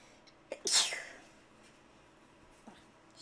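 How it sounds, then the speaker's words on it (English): A single sharp sneeze bursts out near the start, close and loud, followed by quiet breathing and faint rustles in an otherwise hushed room. "Sneeze."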